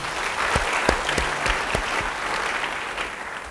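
Church congregation clapping together, a lively steady patter of many hands with a few sharper individual claps standing out over low background murmur.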